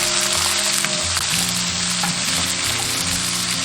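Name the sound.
stir-frying pork belly, peppers, dried shrimp and mushrooms in a wok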